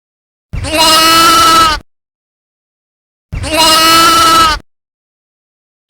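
Two loud, clear sheep bleats, each lasting about a second with a wavering, nasal tone, separated by a short silence and heard alone with no other sound.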